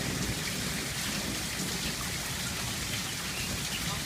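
Heavy rain pours steadily in a dense, unbroken hiss during a thunderstorm, loud and close throughout, with no voices.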